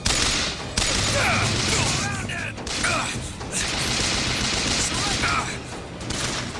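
Rapid bursts of gunfire and crashing impacts fill a BioShock Infinite firefight, loud and nearly continuous, with brief pauses between volleys and faint voices mixed underneath.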